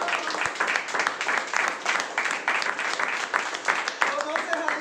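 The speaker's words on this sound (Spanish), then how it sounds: "Demos un fuerte aplauso al Señor." Church congregation giving strong applause during a Spanish-language service, dense sustained clapping from many people filling the room, steady and loud throughout with slight swells.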